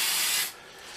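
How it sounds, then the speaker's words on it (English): A spray paint can hisses onto a model Leopard 2A6 tank in one short, close burst that cuts off halfway through. "I hate these spray paints"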